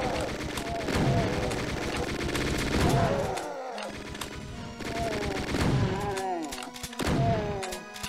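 Chain gun fire in a video game ambush in RAMP 13 Golden Anarchy: dense, rapid bursts of shots run in loud waves with short breaks, over a busy game soundtrack with rising and falling tones.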